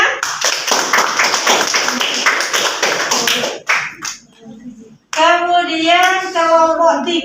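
A classroom group bursts into brisk, dense hand clapping for several seconds, which then dies away before a voice speaks.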